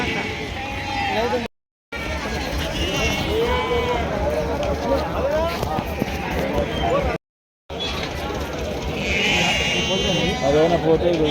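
Goats bleat repeatedly at a crowded rural livestock market, their cries rising over steady crowd chatter and people talking nearby.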